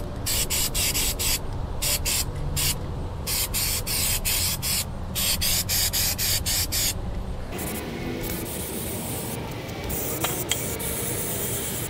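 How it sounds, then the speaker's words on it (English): GOOF-OFF Pro Strength aerosol remover sprays steadily from a can onto a step, a loud close hiss broken by short pauses between bursts, then a softer, rougher hiss toward the end. "And we're just gonna keep on spraying her."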